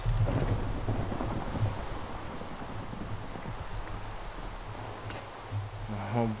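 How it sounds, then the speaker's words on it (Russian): Rain and rolling thunder in the Minecraft video game, a steady loud downpour hiss with a deep rumble swelling at the start and again near the end, while someone speaks over it. "этот дождь все время"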